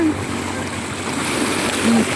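Sea waves slosh and splash around a small boat off Infanta, a steady rushing wash of water close by, swelling slightly near the end.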